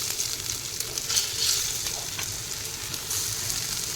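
Taro (arbi) leaf rolls shallow frying in oil in a pan, a steady close crackling sizzle with occasional sharper spits and light scraping of a spatula, with no voices.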